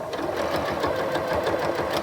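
Close and steady, a sewing machine runs continuously while sewing a quarter-inch seam on a quilt, making a rapid, even mechanical chatter with no pauses.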